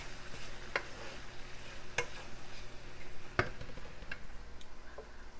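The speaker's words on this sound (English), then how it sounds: "Mix this up." A spoon stirs taco seasoning and Rotel in a pot, with a few sharp scraping knocks against the metal spaced about a second apart over a faint simmering hiss.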